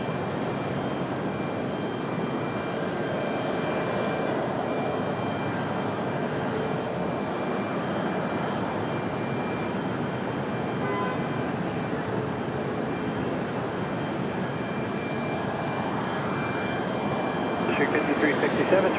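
An Endeavor jet airliner takes off from runway 23 right at Raleigh-Durham International, giving a loud, steady, broad engine roar that holds for the whole span, with voices talking underneath.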